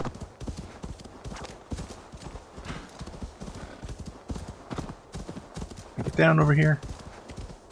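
A horse in Assassin's Creed Valhalla moves with rapid clip-clop hoofbeats and neighs loudly near the end, while someone talks over the gameplay.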